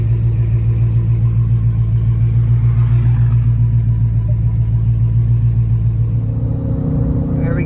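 A car engine pulls hard in fourth gear, a loud, steady, close-up drone that holds strong and then eases slightly near the end.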